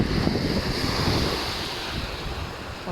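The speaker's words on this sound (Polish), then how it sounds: "znowu wieje jeszcze bardziej, że tutaj jest rzeczywiście jak nad morzem" Strong wind roars across the microphone in a steady, buffeting rush, with the broad wash of surf mixed underneath, on the beach at Międzyzdroje by the pier.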